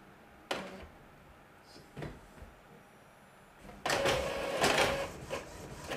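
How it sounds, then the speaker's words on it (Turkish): An Epson L3250 printer prints a page, with two short mechanical clicks followed by a louder burst of whirring and feeding noise, close by in a quiet room. "İşte oradan gönderdiğimizi buradan çıktı aldık."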